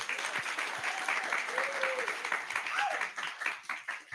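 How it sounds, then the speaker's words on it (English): An audience applauds two guests on a talk show set at an HBCU, producing a dense, sustained wash of clapping and some crowd noise throughout. "Give them a round of applause"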